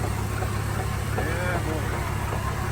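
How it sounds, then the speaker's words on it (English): A blown Vauxhall Corsa Z20 with no running engine being crawled forward on its starter motor, which gives a steady, buzzing mechanical drone throughout while a voice talks over it briefly. "Using the starter motor boys to pull it in."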